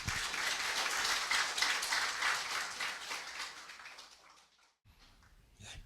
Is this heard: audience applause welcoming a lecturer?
yes